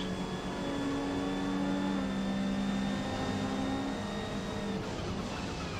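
Race cars in Forza Motorsport, an A-class race at the Nürburgring with a bright green car and a Subaru Levorg GT, give a steady droning engine roar with a rising whine as one passes, continuous and loud with no talk.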